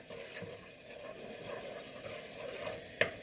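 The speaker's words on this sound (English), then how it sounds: "we're starting with some garlic and chili oil. I'm going to saute that" Garlic sautéing in chili oil gives a low, steady sizzle with soft stirring scrapes, then two sharp clinks of a utensil near the end.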